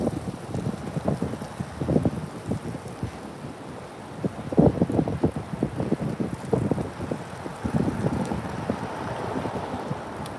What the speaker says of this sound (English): A little windy out here, just watching these signs.